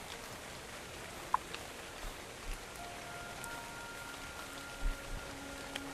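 Soft, constant rainfall at night in the video game Ark: Survival Evolved, with scattered faint drops tapping now and then, quiet and even throughout.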